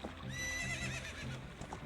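A horse in the Ocarina of Time video game lets out a clear, high whinny that rises and wavers over soft hoof clip-clops and a quiet game backdrop.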